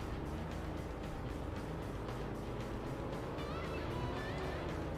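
Opponent car engine in a PS2 racing game, a steady dense roar at low level lasting the whole stretch without pause, with no talking over it.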